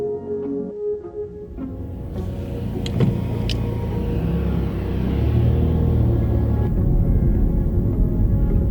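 A car drives down Wigbourne Road, its steady low engine rumble and road noise swelling gradually louder and staying continuous throughout, with no voices.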